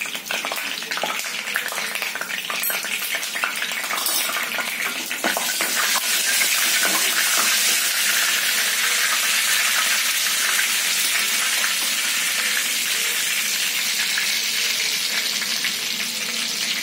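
Hot oil with curry leaves and turmeric sizzles steadily in a pot, a bright crackling hiss that grows louder and denser after a few seconds and then holds, close and continuous with no speech.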